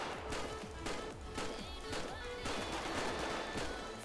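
Rapid bursts of video-game gunfire in GTA 5 crackle in quick succession, a dense volley of repeated shots at close range with no talking over it.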